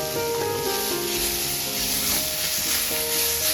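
Mint leaves and a pinch of turmeric fry with coriander seeds and cumin in a pan, making a dense, steady sizzle alongside faint, continuous tonal hum, without any talking.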